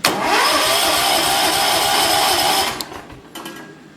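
A John Deere 214 lawn tractor engine is started through a wired solenoid, cranking and catching into a loud, steady run for nearly three seconds before dropping to a quieter idle with a few clicks.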